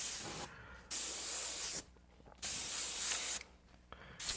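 An airbrush sprays paint through a soft denim-like fabric stencil in three close, hissing bursts of about a second each. Brief quiet pauses separate the bursts.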